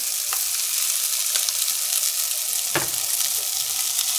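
Tomato paste cooks in a pot on a gas stove with a steady, close hiss and sizzle, broken by a few soft stirring clicks.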